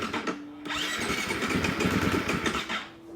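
A Husqvarna FE350S dirt bike motorcycle engine cranks and catches, then settles into a loud, close, steady running idle with a slightly uneven rhythm, ending in a brief fade near the end.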